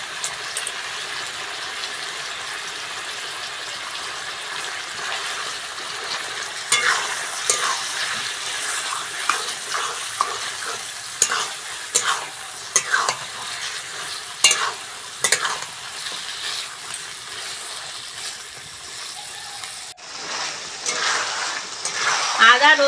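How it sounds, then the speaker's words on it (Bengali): Chicken sizzles in a pan with ginger paste, garlic paste and onion, a steady frying hiss broken from midway by repeated clattering stirs and scrapes, close and fairly loud. "আদা রসুন পেঁয়াজ ভালো করে চিকেনের সঙ্গে কষে নিয়েছি।"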